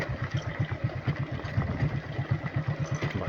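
Vehicle crawling over a rough off-road track through the Sathyamangalam forest near Kadambur, a close, low engine thrum with a regular pulsing rhythm and faint rattling of the body.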